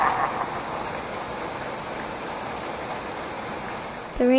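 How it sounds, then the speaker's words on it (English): Rain falls in a steady, even wash of dense patter that stays moderately loud and unbroken before ending abruptly. "The rain stopped, and Ben floated in his puddle."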